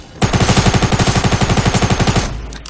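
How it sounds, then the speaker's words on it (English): Rapid burst of SMG fire in Fortnite Battle Royale, roughly twenty evenly spaced shots at a fast, steady rhythm, loud and close, lasting over two seconds before stopping abruptly. "Pickaxe versus SMG, there's only ever going to be one winner of that, Sandal."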